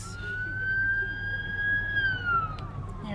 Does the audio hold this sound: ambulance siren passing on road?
yes